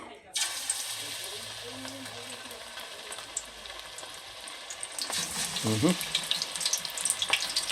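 Squid pieces go into hot cooking oil and set off a loud, steady sizzle that continues to the end, with stirring sounds and a brief louder crackle near the end.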